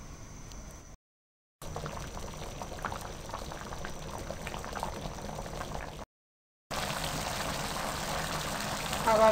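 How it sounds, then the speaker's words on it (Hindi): Pea pulao rice simmers and boils in water in a cooking pot, giving a steady bubbling hiss that continues through two short breaks, close and even in level, with no talking. "इसको उबलने दें।"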